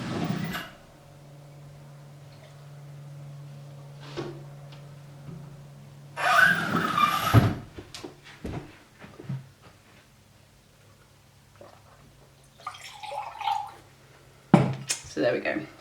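Watercolour rinse water being changed for fresh water: clinking jars and a gush of running water, with faint taps and rattles before and after, while someone talks throughout.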